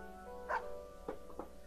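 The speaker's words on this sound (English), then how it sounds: "Snowy barks as if in answer." A dog named Snowy in the video game Persona 4 gives three short barks, one louder followed by two softer ones, over a faint steady background hum.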